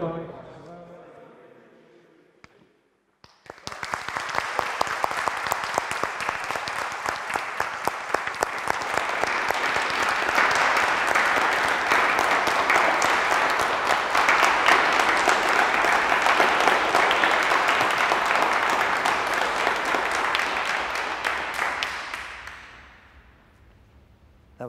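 A congregation in St Philip's Cathedral applauds at an ordination of priests. After a quiet opening the clapping breaks out suddenly, holds as a dense, steady roar for about twenty seconds, then tapers off.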